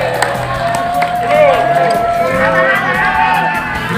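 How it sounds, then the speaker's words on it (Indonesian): An outdoor crowd, including children, claps hands in the morning sun at a cultural gathering, with sharp, irregular claps over a lively background of voices and shouts. "Ini tepuk tangan dulu."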